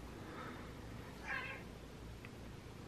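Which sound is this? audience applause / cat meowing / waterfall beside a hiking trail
cat meowing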